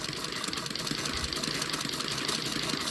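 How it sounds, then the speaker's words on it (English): An antique Singer sewing machine stitching fabric runs steadily and close by, a continuous dense mechanical whir with fast rhythmic clatter throughout, no talking. "it seems like it's sewing a little too tight"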